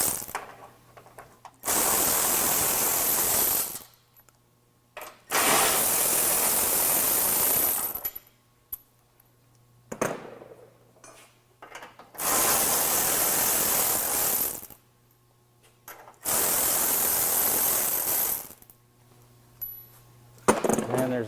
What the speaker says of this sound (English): So I'm going to go ahead and start removing those bolts.